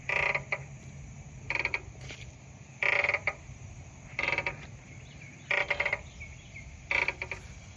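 Old wooden park bench creaking under a person's weight, six or so short groaning creaks spaced irregularly over a quiet outdoor background.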